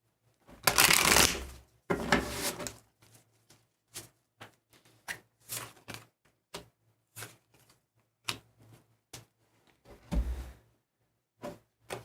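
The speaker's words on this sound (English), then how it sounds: "Let me shuffle one more time." A deck of tarot cards being shuffled close up, two long riffling bursts followed by a run of short, sharp card taps and slaps, with no talking.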